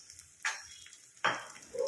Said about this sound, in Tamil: நம்ம அடுத்து பேபி பொட்டேட்டோவை எடுத்து சேர்த்துக்கலாம்.